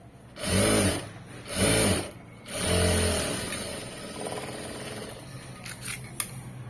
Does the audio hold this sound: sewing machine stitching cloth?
yes